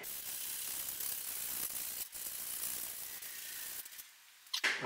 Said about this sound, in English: So we're going to clean this up now with this scraper